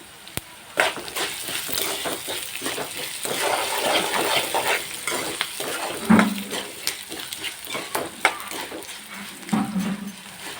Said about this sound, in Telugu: ఇవన్నీ దోరగా వేయించుకోవాలి